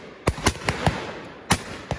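Shotgun shots at a game shoot on Exmoor, about six sharp cracks spaced irregularly over two seconds, carrying outdoors with a faint echo and no voices.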